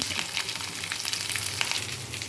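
Ginger, green chilies and onions frying in hot oil with peanuts for upma, a steady crackling sizzle with faint stirring scrapes, close and continuous.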